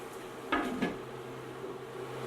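A lid is set onto a cooking pot of simmering fish sarciado with tomato, giving two quick close metallic clinks over a faint background hum.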